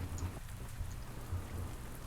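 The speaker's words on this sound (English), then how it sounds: "Enjoying the rain?" Rain falls steadily in the farming video game Pumpkin Days, a continuous soft wash with low rumbling underneath and no voices.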